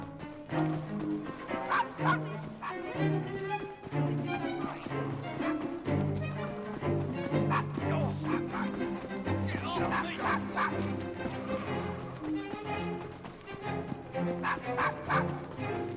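Dog barking in the video game Assassin's Creed Syndicate, set in Victorian London: repeated loud barks and yips close by, continuing throughout alongside a busy game soundscape.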